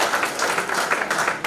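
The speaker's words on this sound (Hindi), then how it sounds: "इस बात पर तालियां चाहिए थी आपकी।" An audience claps briefly in a steady patter of applause throughout, without any speech.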